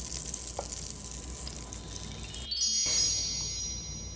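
Short ribs searing in a hot pan, a continuous close crackling sizzle with a brief clatter and shift partway through, no voices.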